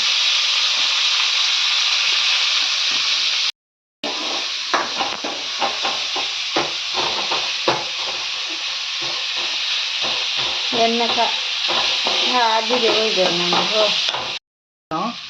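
Tomato hits a hot pan already holding onion and green chili and fries with a loud, steady sizzle, broken by scraping stirs and a couple of short gaps.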